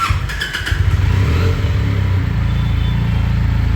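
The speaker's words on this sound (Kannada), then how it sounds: "ಇವಾಗ ಗಾಡಿ ಸ್ಟಾರ್ಟ್ ಮಾಡ್ತೀವಿ." A Benelli 300i motorcycle cranks and fires, then settles into a loud, heavy, close-up idle with a steady rapid pulse.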